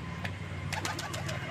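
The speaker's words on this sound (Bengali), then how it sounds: "সব পায়রা অলরেডি খাচ্ছে" Pigeons feeding give soft, low cooing, a few faint murmured calls over a steady background hum within a moment.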